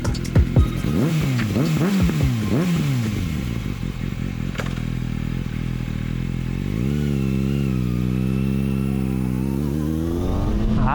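Motorcycle engine revving up and down in repeated throttle blips, then settling into a steady rising and falling drone, close and loud, with no talk over it.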